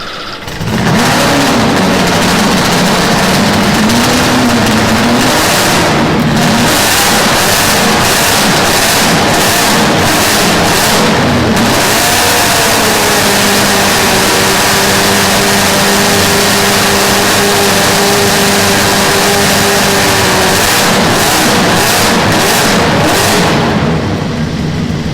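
The Norton Nemesis motorcycle engine cranks and fires up at the MCN London Motorcycle Show, then roars loudly with repeated revving swells and a rough idle, close and dominant for the whole stretch.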